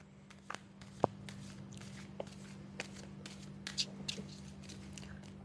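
Soft riffling and tapping of tarot cards being shuffled, quiet and close, with a low steady hum underneath.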